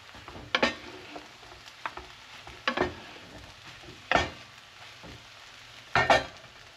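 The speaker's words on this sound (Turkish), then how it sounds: "Hürşmerimiz pişesiye böyle durmadan bastıracaksın, karıştıracaksın." Sütlü höşmerim dessert is stirred in a pan, with a spoon scraping the bottom in separate strokes about every second or two over a faint sizzle, close and fairly quiet.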